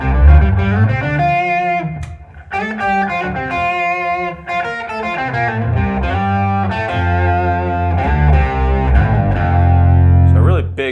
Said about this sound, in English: Here it is with a little bit of distortion.